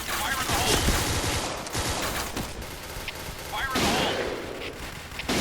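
Rapid gunfire from a cheap '2030' gun in the shooter game Point Blank, with dense, loud bursts of shots and impacts running almost continuously and overlapping other game noise.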